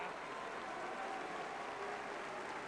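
An opera audience at La Scala applauding during curtain calls in 1983, a steady, even wash of clapping from a large crowd that fills the whole short stretch without any voices.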